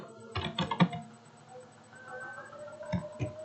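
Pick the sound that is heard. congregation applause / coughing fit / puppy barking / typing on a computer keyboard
typing on a computer keyboard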